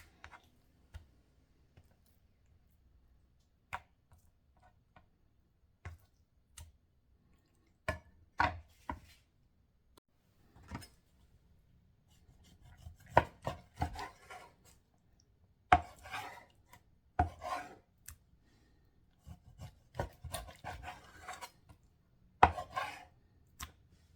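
A dull kitchen knife chops food on a board at home while preparing chicken strips and potato wedges, sparse separate thuds at first, then more frequent clustered cuts, close and fairly quiet.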